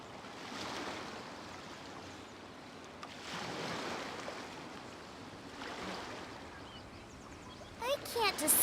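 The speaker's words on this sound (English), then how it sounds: "The sound of the ocean waves." Ocean waves in the game Genshin Impact wash in repeated broad swells of surf, rising and receding at a moderate distance, with a brief higher chime-like sound near the end.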